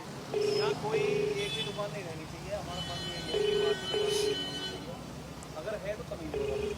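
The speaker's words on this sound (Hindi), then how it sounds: "मैं एक बारी कॉल करके देखूं कि ये फोन अगर उठता है" Repeated ringback tones of an outgoing phone call, paired beeps recurring in a steady pattern over background traffic and a voice.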